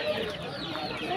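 A rooster clucking on a Bengali home farm during Christmas-time preparations, low steady clucks mixed with background bird and farm noise, fairly close and continuous.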